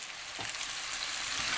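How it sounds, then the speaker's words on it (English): Fish pieces and mangoes fry in a spiced curry for Guyanese gilbacka, a dense, even hiss of bubbling oil, close and steady, with a faint knock or two underneath. "I'm going to let this fry for another 5 to 7 minutes"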